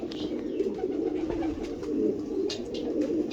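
A pair of pet racing pigeons, including a costly hen, coo softly and repeatedly at close range, a low rolling burble that goes on steadily.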